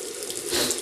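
Tap water runs steadily from a faucet as a shaving brush is dipped under the stream, a close, continuous splashing rush with no voices.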